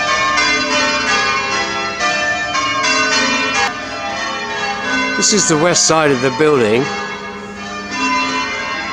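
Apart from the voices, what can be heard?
church bells ringing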